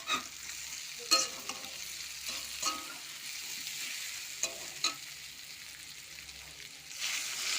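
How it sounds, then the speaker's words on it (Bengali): Potatoes and spices sauté in a pan with a faint, low sizzle, and a few brief scrapes and clinks of a stirring utensil come at irregular moments. "মশলা আলু সব কষানো হয়ে গেছে"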